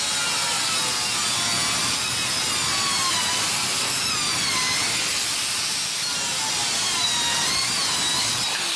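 A DualTools CS300 saw cuts through diamond steel with a loud, continuous, close grinding whine and rasping hiss that holds steady throughout, with no pauses or voices.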